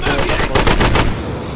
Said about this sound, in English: MG machine gun